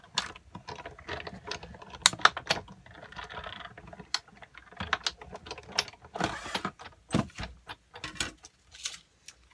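A Big Shot die-cutting machine is cranked to feed a sheet of paper and a Thinlits die through, giving a run of close, dry ratcheting clicks and clacks in an irregular rhythm.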